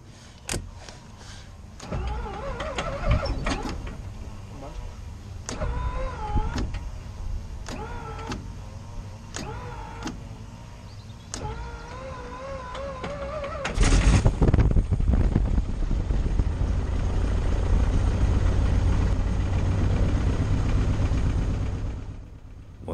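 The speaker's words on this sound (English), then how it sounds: "The primer is pumped and we are ready to start." A vintage aircraft engine turns over with rhythmic cranking and whining, then catches with a loud roar and settles into a steady, close running drone.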